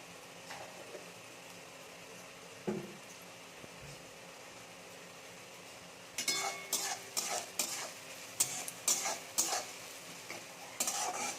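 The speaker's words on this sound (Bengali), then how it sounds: "পেঁয়াজটা ভাজা হয়ে গেছে, এবার টমেটোটা দিয়ে দেবো।" Onions for a Bengali-style chicken dish fry in a pan with a low sizzle, then a metal spoon stirs them in a quick run of rhythmic scraping clinks, close by and with no talking.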